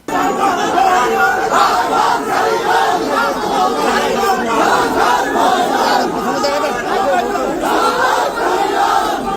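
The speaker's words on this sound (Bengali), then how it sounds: "স্লোগান দেওয়া হইল জয় বাংলা" A large crowd chants the slogan Joy Bangla outside a court where Awami League ministers are garlanded, a loud, dense, continuous roar of many voices rising and falling without pause.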